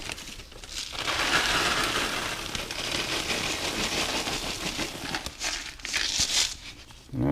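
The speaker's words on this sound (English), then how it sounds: "First I got some old-fashioned oats. I'm going to pour in about half this container." Old-fashioned oats pour from a 42-ounce container into a plastic bag for carp pack bait, a steady close crinkling rush of flakes and rustling plastic that runs for several seconds.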